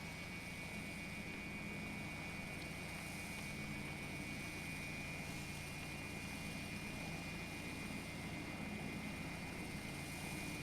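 Steady, unbroken engine and propeller drone of a Diamond DA62 twin-engine light aircraft in flight over Australia, heard from inside the cabin with a constant high whine and no talk.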